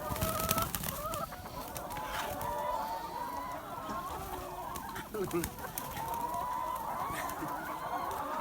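Chickens cluck steadily and close by over soaked wheat bran on a farm, with a few louder squawks near the start and a crow-like call rising through the continuous flock chatter.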